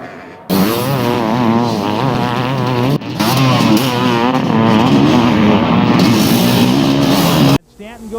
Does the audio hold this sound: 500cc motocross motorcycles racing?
yes